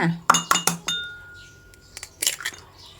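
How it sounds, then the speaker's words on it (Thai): Sharp clinks of eggshells tapping against a glass bowl while cracking eggs for a Thai omelette, a quick run of knocks, then softer cracking and dripping sounds close up. "ขั้นตอนแรกเราาตอกไข่ก่อนเลยค่ะ"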